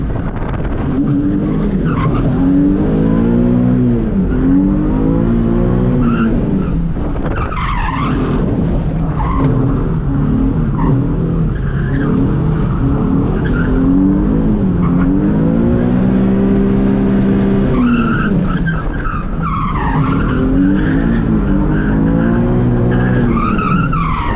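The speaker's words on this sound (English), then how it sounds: "I'm about to go drift my Z in a neighborhood somewhere in Mexico" A Nissan Z drifts through a neighborhood street in Mexico, its tires skidding and squealing continuously for about 24 seconds while the engine revs and wails in long rising and falling sweeps, loud and close throughout.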